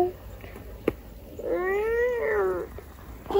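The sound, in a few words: cat meowing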